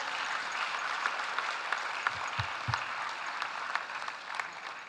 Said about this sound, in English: Please welcome them as they join us here. A round of applause.